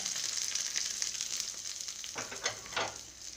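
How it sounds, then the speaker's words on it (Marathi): Hot tadka with chili poured into a cucumber koshimbir salad, giving a steady close sizzle with a couple of sharper hissing bursts near the end. "आपला तडका आहे तयार आपण ह्यामध्ये टाकू आता"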